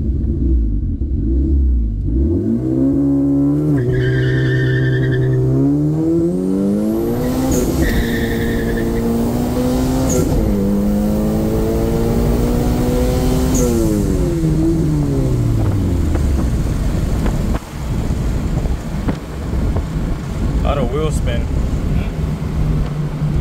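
Toyota Corolla XRS with a boosted engine revving and accelerating through several gear pulls, loud and close, with rising and falling engine tones and a brief high whine.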